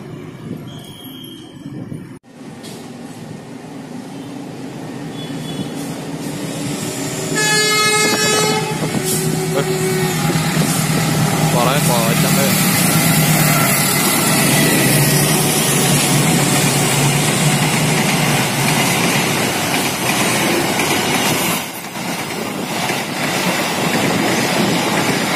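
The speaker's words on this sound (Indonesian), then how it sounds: "Seperti biasa ya, masih pakai lokomotif 201." Passenger train hauled by a 201-class locomotive passes close by, a loud sustained rumble of cars and wheels with a brief horn blast early on, continuing steadily to the end.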